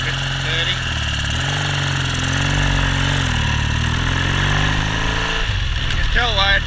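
A Triumph Bonneville motorcycle engine of about 850 cc runs steadily and pulls away, its tone rising gradually through a tall gear under continuous loud mechanical noise, with a brief whine near the end.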